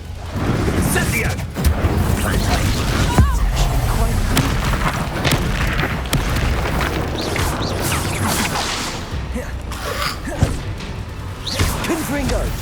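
Incendio fire spells are cast in a Hogwarts Legacy duel, heard as repeated booming blasts and whooshes with sharp impacts among the busy, dense combat effects, with voices calling out in between.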